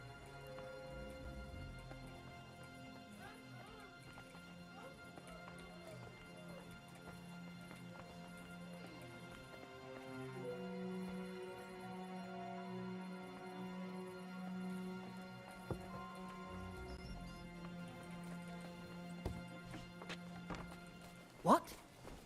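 Horse hooves in the video game Kingdom Come: Deliverance 2, a quiet rhythmic clip-clop under game music and occasional speech, with a sharp louder hit near the end.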